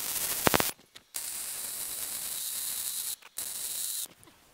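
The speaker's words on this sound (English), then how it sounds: "So I'm gonna go ahead and solid weld this." A solid weld is laid along a frame seam. It gives a steady, close, hissing crackle in long stretches, stopping briefly twice between beads.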